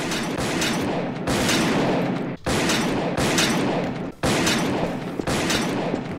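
Sustained rapid gunfire in Garry's Mod DarkRP, loud and dense bursts broken by short pauses, continuous volleys with no talking over them.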